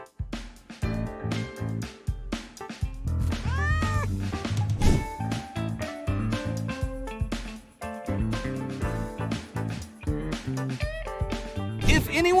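Cat meowing repeatedly with stretched, rising and falling caterwauling cries, close and loud, mixed with other voices and background sounds throughout.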